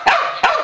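A Pembroke Welsh Corgi barks on command indoors, two sharp, loud, close barks in quick succession with a short gap between them.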